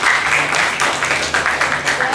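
Classroom applause for a group of students after their presentation, a dense steady patter of many hands clapping for about two seconds, close and fairly loud, with a few voices mixed in.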